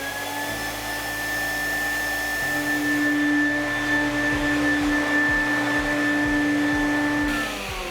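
An Air Glide motor unit blows air in a loud, steady whine to float a heavy appliance, holding a constant pitch for several seconds before a slight change near the end.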